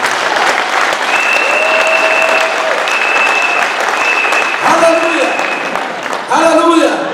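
Church congregation breaking into sustained applause during a sermon, a dense wash of clapping from a large crowd, with a preacher's voice and sung tones rising over it toward the end.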